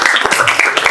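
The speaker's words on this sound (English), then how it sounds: "Round of applause, please." A brief burst of audience applause at a blockchain technology talk, close, rapid clapping from a small crowd lasting about a second.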